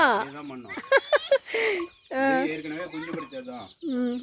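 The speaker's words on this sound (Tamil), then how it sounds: "இப்போதான் ஒரு கோழி ஒன்று இறங்கி போச்சு" A hen clucks in bursts at a farmyard where native duck eggs are being hatched under chickens, short clucks mixed with a person talking and laughing nearby.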